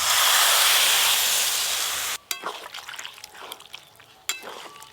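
Water poured into a hot pan of jackfruit, potato and prawn curry hisses loudly and steadily for two seconds, then drops off abruptly into quieter bubbling with a few clinks and stirring scrapes.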